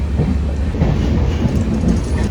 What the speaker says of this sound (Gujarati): હજી સાબરમતી જંકશનમાં જ આંટા મારી રહી છે આપણી.